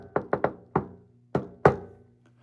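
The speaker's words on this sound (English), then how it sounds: "Knock on wood." Six sharp knocks on a wooden surface in an uneven pattern, three quick raps, a pause, then single knocks, close and crisp with no talking.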